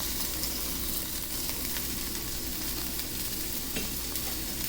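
A BBQ pork chop fries in a pan on a stovetop under a sputter guard, giving a steady, close sizzle with crackling pops and spits and a constant low hum beneath it.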